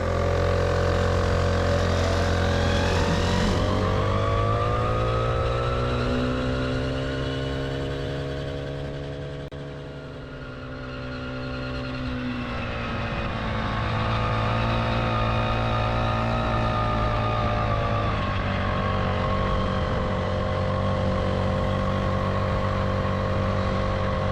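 A Blaze 49cc gas scooter climbs hills, its small engine droning steadily throughout with a continuous buzzing whine that dips in pitch and loudness mid-ride before rising again, loud and close with no talking.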